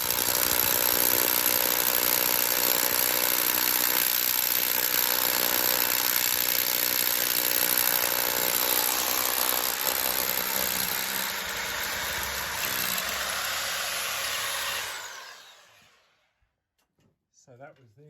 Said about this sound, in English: the fourth hole I've drilled through now